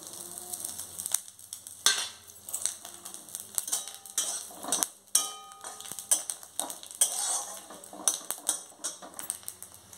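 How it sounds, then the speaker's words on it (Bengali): Bay leaves and five-spice seeds tempering in hot oil while being stirred, giving crackling sizzles broken up by repeated metallic scrapes and clinks of a utensil against the pan, close and irregular, with no talking. "এবার মশলা করার জন্য আমি এখানে প্রথমে দুটো তেজপাতা দিয়ে দেব তেলের মধ্যে"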